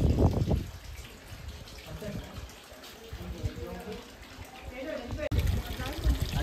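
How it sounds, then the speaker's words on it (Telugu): A thin trickle of water runs from an outlet at Lachung in North Sikkim, a steady soft flow heard close by, with low rumbling and murmuring in the background. "ఒక చిన్నగా దారలా వస్తుంది. సో ఇదన్నమాట వాటర్."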